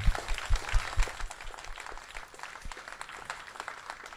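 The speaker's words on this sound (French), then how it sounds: "vous méritez d'être vraiment applaudis" Applause from an audience at the closing ceremony of a European week with ministerial speeches: steady clapping from many hands, fairly dense and moderately loud, fading slightly over a few seconds.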